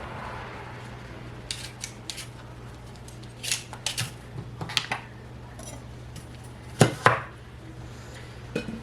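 Knife scraping and slicing as a pumpkin is peeled in a kitchen, a series of soft irregular scrapes building to two sharper cuts near the end, close over a faint steady hum.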